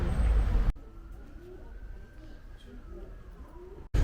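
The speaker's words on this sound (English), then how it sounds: "It's just us and the pigeons." Pigeons coo softly on an outdoor wooden walkway of a medieval fortification, a low murmuring coo running faint and steady between louder bursts of nearby sound at the start and end.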